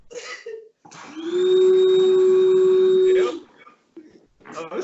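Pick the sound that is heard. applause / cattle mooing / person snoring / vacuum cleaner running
vacuum cleaner running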